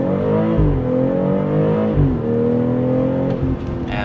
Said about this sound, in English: And this is where you get to hear the BMW sound.